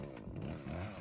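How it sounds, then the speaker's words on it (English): A top-handled chainsaw is started in the Maine woods during burl harvesting, giving a brief rough, low engine rumble that sputters and catches in about a second, moderately quiet and without speech. "top-handled chainsaw."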